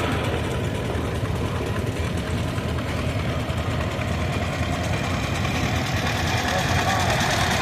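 A 1948 Allis-Chalmers Model B tractor engine runs with a steady, loud, low chugging rumble during a parade of power at a threshing show, while an announcer talks over it.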